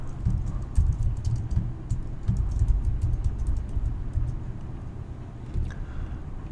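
Computer keyboard typing to edit text, a run of quick, close, soft key clicks in uneven bursts over a quiet room.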